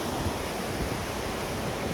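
Sea waves crash steadily against the shore at Puerto de la Cruz, Tenerife, a continuous loud surf roar with wind buffeting the microphone throughout.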